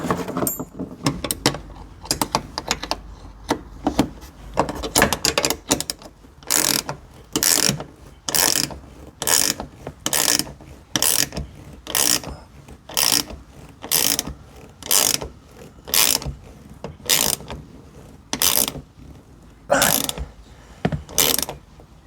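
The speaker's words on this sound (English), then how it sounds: "So loose ratchet won't work." Ratchet wrench being worked while Lexus power seats are installed in a 1957 Bel Air, a long series of rapid clicking bursts that settle into a regular rhythm of evenly spaced ratcheting strokes, close and loud.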